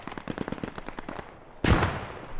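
Rapid automatic gunfire rattles in a tight burst of about a dozen shots in a WW2 shooter video game, then one heavier, louder blast rings out and fades.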